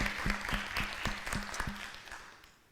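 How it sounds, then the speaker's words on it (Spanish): A church congregation claps together in a steady rhythmic beat, about four claps per second, over a wash of scattered applause that fades away toward the end. "Dale un aplauso al Señor por tu vida, Óscar"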